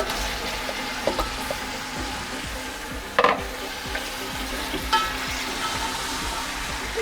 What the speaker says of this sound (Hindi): इसको मैं अब ये पाए डाल के अच्छी तरह अब इसको भूनूंगी